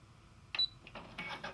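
A Brother PB6800 sewing machine's automatic thread cutter gives a quick burst of faint, close mechanical clicks and whirs, a sharp snap followed by a few short rattling ticks.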